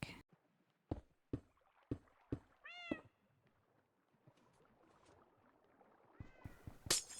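A Minecraft cat meows twice in a game world, clear rising tones between sharp clicking footsteps and blocks, with faint water-like rustle and a brighter burst of game sounds near the end.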